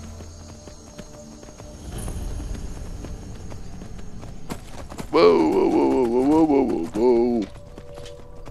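A horse in the video game Skyrim clops along with sparse hoofbeats before letting out a loud, wavering whinny midway, while a man exclaims briefly.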